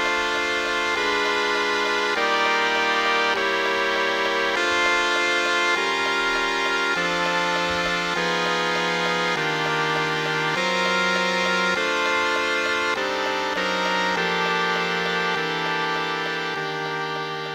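Chord lines with moving inner voices play back from Sibelius notation software, a dense, steady block of sustained synthetic harmony changing chord every second or so, moderately loud and alone without any voices.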